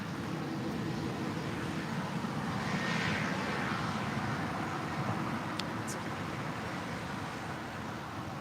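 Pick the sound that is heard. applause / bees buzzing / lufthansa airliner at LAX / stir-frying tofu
lufthansa airliner at LAX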